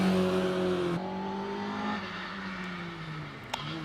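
A Fiat 900cc-engined hillclimb car at Prescott revs hard, its buzzing engine note dropping sharply, then holding and easing back as it pulls away, loud and close.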